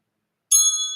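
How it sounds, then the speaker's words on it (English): Wind chimes struck once after silence, a bright metallic ring with several clear sustained tones that begin sharply and slowly fade, close and alone. "let's call in spirit with a little bit of wind chime time."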